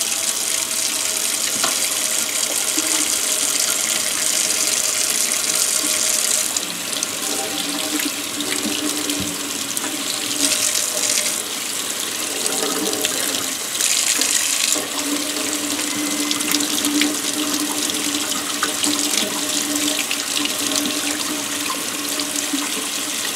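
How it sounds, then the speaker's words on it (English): Tap water runs steadily over a kukri blade, washing off mustard from a Desert Storm patina project, a loud close continuous splashing flow with shifts as the blade moves under the stream. "But we'll wash the mustard off and see what happens here."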